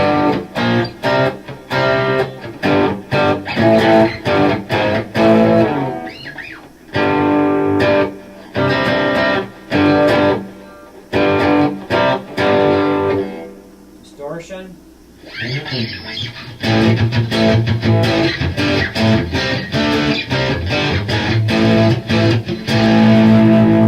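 An electric guitar, a Fender Stratocaster through a Boss Katana 100-watt amp, plays chords through heavy overdrive, gritty and loud, with brief pauses between strummed phrases.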